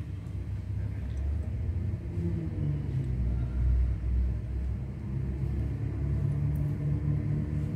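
Low, steady rumble of a car engine as it turns during a driving lesson at an industrial training institute, heard from inside the vehicle with gentle swells in level and no talk.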